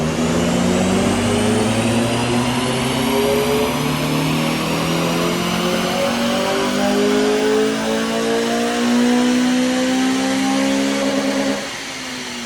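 Honda Civic FN2 engine on a dyno during a power run, a loud, close, sustained rev climbing steadily in pitch for about eleven seconds before dropping off, with no talk.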